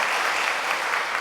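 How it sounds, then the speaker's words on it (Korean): A church congregation applauds during a Sunday service, a brief, even patter of many hands clapping at moderate volume with no talk. "두 교수님 가정을 위해서 박수 한번 보내겠습니다."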